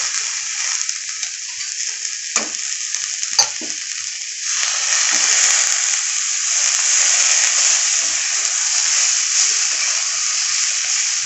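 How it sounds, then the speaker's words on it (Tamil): Cluster beans sautéing in a pan for a poriyal, giving a loud, steady hiss of frying that swells after a brief stir and a couple of utensil knocks, then continues evenly with no voices. "கொத்தவரங்காய் சேர்த்து அதையும் நல்லா வதக்கணும்."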